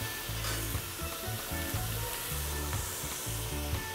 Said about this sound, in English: Now I'll add the roux.